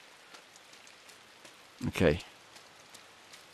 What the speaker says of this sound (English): So like the rain effects and sounds